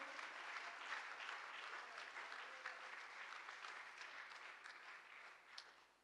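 Steady applause from a church congregation at a Pastor's Day service, a broad wash of many hands clapping at moderate volume, continuing evenly throughout and tapering slightly at the end.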